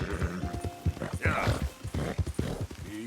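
Horse hooves clip-clop along a trail in Red Dead Redemption II, a steady rhythm of close knocks running under someone talking gently to his horse.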